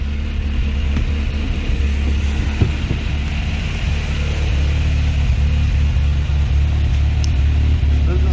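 Rebuilt 22RE four-cylinder in a 1987 Toyota 4Runner idling steadily with a low, even rumble, plus some wind noise on the microphone; no one speaks over it.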